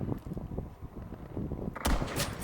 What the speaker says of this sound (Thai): คนยิงปืน STG